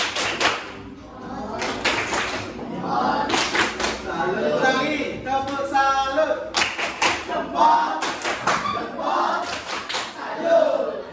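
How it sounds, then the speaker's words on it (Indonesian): Students in an Indonesian classroom perform a rhythmic patterned clap, a 'tepuk salut' salute for the winning group, with bursts of loud clapping and shouted chanting in between. "Tepuk salut."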